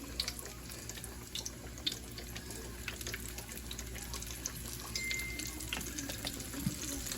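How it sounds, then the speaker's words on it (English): Bull testicles fry in hot grease with a steady, dense crackle and sizzle that continues unbroken for several seconds, close and unaccompanied by talk. "Now we're going to fry these bull balls"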